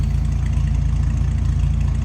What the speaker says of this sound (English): good sounding car, smooth running inline six